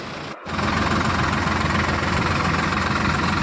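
A tractor engine runs close and loud with a steady, throbbing low rumble, broken only by a brief dropout near the start, with no voices.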